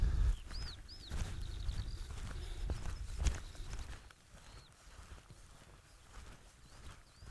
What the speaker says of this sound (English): Can you hear the skylarks, by the way?